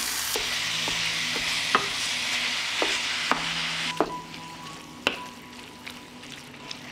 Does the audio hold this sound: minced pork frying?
yes